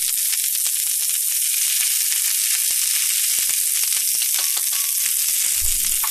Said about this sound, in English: we'll let that broccoli cook a little bit more, remembering that we put the carrots in earlier